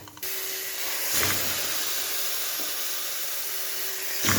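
Chicken pieces dropped into a pot of sautéed onions seasoned with curry, kabsa spice, black pepper and salt, setting off a sudden loud, steady sizzling hiss that holds throughout with a few brief sharper crackles.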